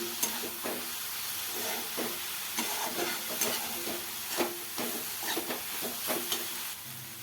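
Dried shrimp (sukat) chutney stir-fried in a pan, with a steady sizzle and hiss and repeated scraping strokes of a spatula spread throughout, close and continuous.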